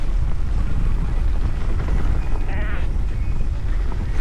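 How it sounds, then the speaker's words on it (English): Wind buffets the microphone while riding a Gotrax GX3 electric scooter over rocky ground, a loud continuous low roar and rumble with a brief higher whine midway. "We're definitely going back into the wind this time."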